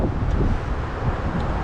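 Wind rushes steadily and loudly across an outdoor fishing spot, a constant low buffeting roar against the microphone with no voices.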